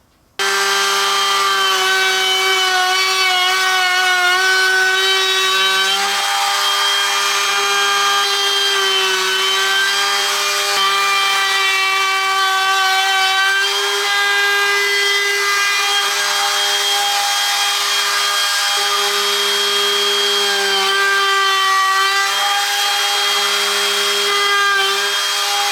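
Router cutting a quarter-inch round-over along the edge of a wooden end grain cutting board, a loud, continuous whine with a steady pitch and small dips as the bit moves along the wood, with no talk.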